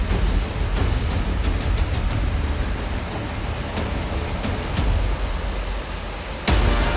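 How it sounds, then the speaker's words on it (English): A waterfall at the statue of Bishop Saint Gellért pours in a steady, even rush of broadband water noise throughout, with a few faint clicks and a brief dip near the end. "The overall picture is completed by a waterfall."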